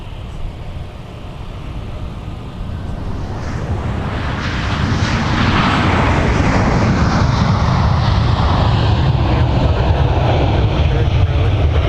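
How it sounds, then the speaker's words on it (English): A Delta airliner inbound from Fort Myers lands on runway 12 right at MSP airport, its broad jet roar building steadily louder over several seconds and then holding as a close, sustained rumble. "Delta 1603 now arriving on 12 right from Fort Myers, Southwest Florida International."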